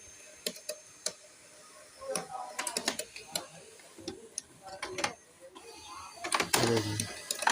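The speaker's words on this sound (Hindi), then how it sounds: "ये देखिए प्रिंटर हमारा इनिशलाइज होने लगा।" An HP LaserJet M227 printer that had an error sound problem initializes, giving irregular mechanical ticks and clicks that build into a busier whirring, clattering stretch toward the end, close by.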